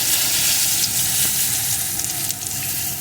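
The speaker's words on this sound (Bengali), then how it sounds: "ফোড়নটাকে সুন্দর করে প্রথমে ভেজে নেব" Dried red chillies and panch phoron frying in hot oil, a loud continuous close crackling sizzle with faint stirring and no speech.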